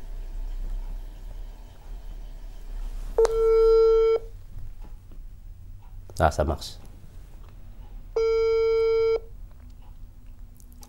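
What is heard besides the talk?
telephone call dialing and ringing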